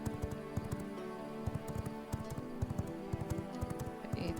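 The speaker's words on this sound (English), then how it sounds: "This is not a bad horse." Horse hooves in the video game V Rising, a quick, regular clip-clop of a galloping mount under faint game ambience, fairly soft and steady.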